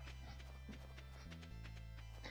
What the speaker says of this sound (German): Was machst du denn hier, Pferd?